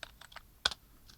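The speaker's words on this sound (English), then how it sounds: "if you have a look at my shortcut key, it's Command Shift R. So I'll do that now." A Command Shift R keyboard shortcut is pressed on a computer keyboard: a few light key clicks, then one sharper, louder keystroke cluster, close up and without talk.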